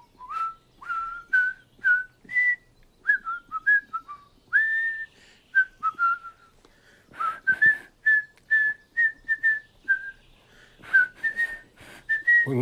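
Someone whistles in short, uneven bursts of thin notes, repeatedly trying with breathy gaps and wobbly pitch, close and fairly clear with no talking.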